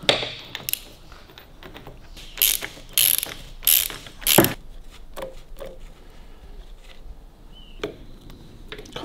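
A ratchet clicks in quick bursts while the outer gearbox cover comes off a Harley Davidson WLC, several close rattling runs separated by short pauses and small metallic knocks.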